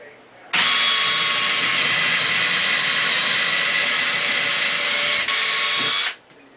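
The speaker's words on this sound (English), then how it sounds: "Take your drill." A power drill drilling into a wall whines loudly and steadily for about five seconds, with a brief hitch near the end before it spins down and stops.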